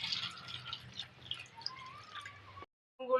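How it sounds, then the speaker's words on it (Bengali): Cold water splashes and trickles over boiled eggs, faint close drips and gurgles for a couple of seconds, then a short silence and a brief renewed splash. "ডিমে ঠান্ডা জল দিয়ে দেবো।"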